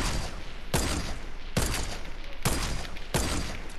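Gunfire in the Fortnite video game crackles in dense, continuous bursts, with loud cracks marking off several sharper volleys throughout.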